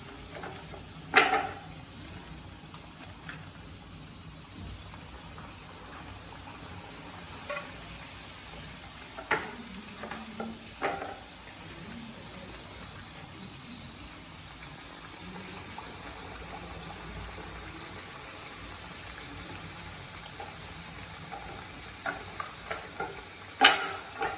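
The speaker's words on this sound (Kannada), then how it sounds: "ಈಗ ಈ ಥರ ಒಂದೊಂದೇ ಎಣ್ಣೆಗೆ ಬಿಡಬೇಕು. ಒಂದ್ಸರಿ ನೀವು 5 ನಿಪ್ಪಟ್ಟು ಎಣ್ಣೆಲಿ ಬಿಡಬೇಕು." Nippattu rice crackers frying in hot oil give a steady, soft sizzling bed, with occasional sharper bursts of crackling and stirring as pieces drop in, close and without talking.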